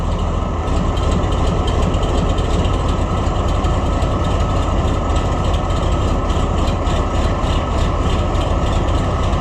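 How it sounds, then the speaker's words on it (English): An Oliver 1655 diesel tractor engine runs steadily through its muffler, a loud, continuous low rumble with a regular pulsing beat and no voices. "That muffler's got a little bit different sound to it."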